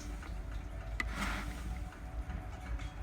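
Petrol at 91 octane sprayed into a hot stainless steel tube at about 100 degrees gives a soft, brief hiss of vapour around the middle, riding over a steady low background rumble, with no talk.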